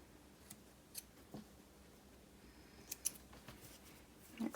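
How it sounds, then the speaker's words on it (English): Scissors snip loose sewing threads after back-tacking a seam on a blouse: a few small, quiet, crisp clicks spread over a few seconds in a calm room. "Snip those threads."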